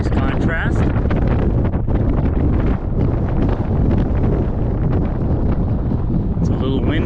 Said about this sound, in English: It's a little windy, as you can tell.